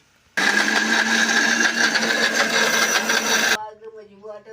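A mixer grinder roars loudly as it grinds peanuts, coconut and turmeric. The steady, buzzing whir starts abruptly, runs for about three seconds, then cuts off and leaves faint background sounds.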